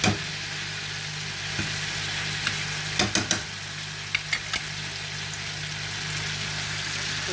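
Colocasia (arbi) pieces frying in a pan give off a steady, low sizzle, with a few soft clinks and scrapes of stirring.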